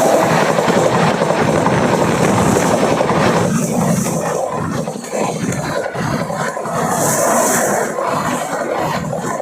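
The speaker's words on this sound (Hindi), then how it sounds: "फुल हॉकिंग वेब 7 लोकोमोटिव के साथ फ्लैट 130 की रफ्तार से आ रही है" The Shramjeevi Express, hauled by a WAP-7 electric locomotive at 130 km/h, thunders past close by as a loud, continuous roar of wheels and rushing wagons that eases slightly partway through.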